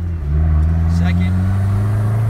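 Turbocharged 2.4L Jeep Wrangler TJ engine droning steadily while accelerating, with a brief fluttering hiss from the turbo near the middle, heard from inside.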